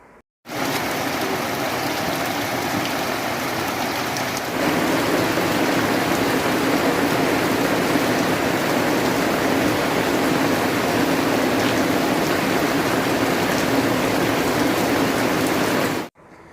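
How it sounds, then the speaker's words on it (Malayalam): Heavy rain pours steadily outdoors, a dense continuous hiss that thickens after a few seconds and holds loud and unbroken, with no voices. "അങ്ങനെ പുറത്ത് മഴ നല്ല തകൃതിയായി പെയ്തുകൊണ്ടിരിക്കുകയാണ്"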